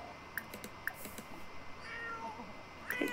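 A pet cat in The Sims 4 gives several short, faint meows in a quiet game scene, with soft clicks in the background.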